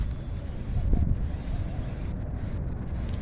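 Steady wind rushes and buffets the microphone in a forest, a low continuous roar outdoors with no talking.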